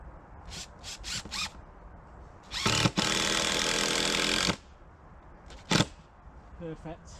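A small Makita power driver sets screws while planting onion sets and garlic, giving a few short whirring bursts and then one longer sustained run of about two seconds, fairly close, with quiet pauses between.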